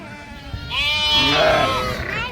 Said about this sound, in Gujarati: આમાં ઘેટા રાડે રાડ કરતા હોય.